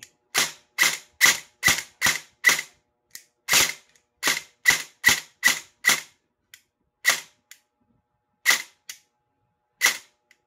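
An EC 329 airsoft rifle test-fires in sharp, loud snapping shots, first single semi-auto pops in quick succession, then clustered bursts and spaced shots, close and dry with no talk.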